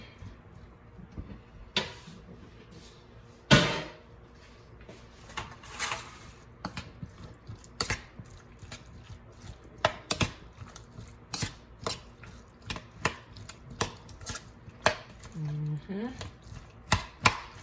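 Avocado filling with sour cream is mixed and mashed in a bowl, giving a run of irregular soft squishes and sharper knocks of a utensil against the dish, close and clear, with a little talk mixed in.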